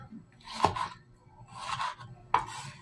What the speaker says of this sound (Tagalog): Tapos maghiwa naman tayo ng kamatis.